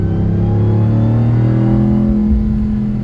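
Ram TRX pickup with a K&N full cold-air intake revving at moderate throttle, a loud, steady low engine drone with a sustained rising intake whine over it, close and continuous throughout.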